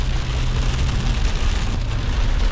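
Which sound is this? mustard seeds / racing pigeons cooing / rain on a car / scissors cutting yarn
rain on a car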